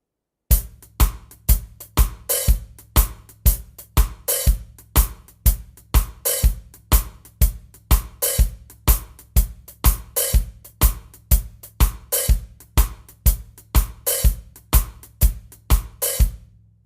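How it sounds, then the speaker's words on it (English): A drum kit plays a steady shuffle groove on a ska tune, with kick and snare hits repeating evenly for many bars. An open hi-hat splashes on the last eighth note of each bar, and no voices are heard. "One that I like to play was an open hi-hat on the last 8th note of a bar"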